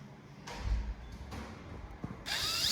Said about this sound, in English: Here we are, just drilling the hole.